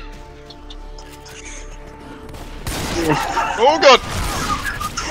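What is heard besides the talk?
gunfire in Left 4 Dead 2 video game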